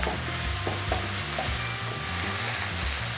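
Onions sizzle steadily in a hot pan for omurice, a dense continuous fry with soft stirring scrapes now and then, close and fairly loud with no talk.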